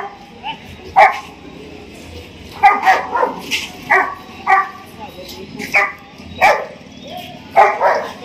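A dog barks repeatedly nearby in short, sharp yaps with brief gaps between them, mixed with some yips, over faint outdoor background noise at the main market near Venna Lake, Mahabaleshwar.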